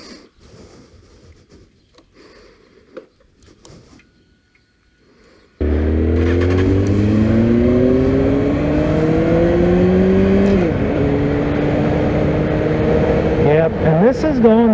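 A red motorcycle starts abruptly after quiet handling noises, then rides off with its engine climbing through several gear shifts, rising and falling in pitch, loud and close throughout.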